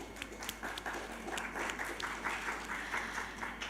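Conference audience at an international hospitality entrepreneurship gathering applauding a speaker, scattered individual claps merging into moderate, fairly distant applause in a large hall with a low hum beneath.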